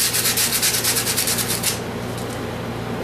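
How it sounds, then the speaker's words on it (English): A wooden board is sanded by hand for a rustic finish before staining and varnishing, giving a loud, steady rasping of back-and-forth strokes for about two seconds that then fade to a faint hiss. "I'm going to sand her off a little."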